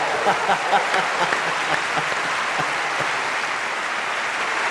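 Steady audience applause fills the room, dense and even throughout, with the faint trace of a voice underneath.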